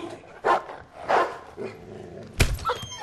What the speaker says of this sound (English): That dog is really creeping me out.